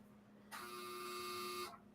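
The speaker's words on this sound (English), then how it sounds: "I didn't hear you because the dryer was buzzing" A clothes dryer's buzzer sounds one steady, continuous electronic tone lasting just over a second, loud against a quiet room, and then cuts off sharply.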